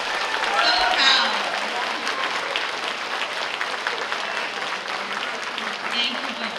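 Audience applause at a Taiwanese community Lunar New Year gala in Northern California, sustained broadband clapping from a large indoor crowd, steady throughout with a slight swell near the start and again toward the end.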